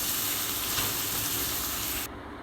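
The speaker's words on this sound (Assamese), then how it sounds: "অলপ ৰঙচুৱা হোৱালৈকে ভাজি ল'ম।" Boiled potatoes with salt and turmeric fry in hot oil in a kadai, giving a steady, even sizzle that runs without a break and drops suddenly in level near the end. No one speaks.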